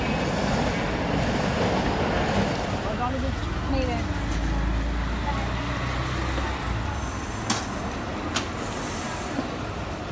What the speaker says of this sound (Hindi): इधर एक ट्रेन आ रहा है